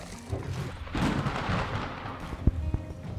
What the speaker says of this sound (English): Thunder rolls.